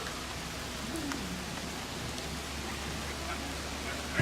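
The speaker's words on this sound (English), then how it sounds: "So the rain's not heavy enough to put it out" Light rain falls steadily at a campsite in Itasca State Park, a continuous soft hiss with faint scattered drips and no voices.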